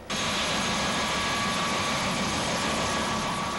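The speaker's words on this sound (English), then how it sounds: "Flagged down a passing Air Force helicopter." An Air Force helicopter gives a loud, steady roar that starts abruptly and holds constant throughout, with no talk, at a hurricane rescue.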